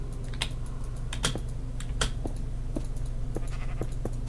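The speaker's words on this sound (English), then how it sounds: "Oop, sheep. Come here, sheep." Sheep bleating in a blocky survival game, a few faint bleats mixed into steady computer keyboard typing and clicking, close and continuous.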